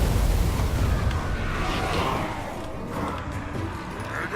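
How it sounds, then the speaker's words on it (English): A battlefield explosion in the video game Total War: Warhammer 2 roars as a loud, dense, rumbling blast that stays thick and booming for several seconds. "And then an explosion."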